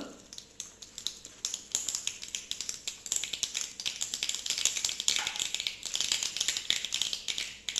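Mustard seeds and a pinch of asafoetida crackle in hot oil in a small kadhai, a dense, close run of sharp pops and sputters that keeps going steadily from start to finish, with no voices.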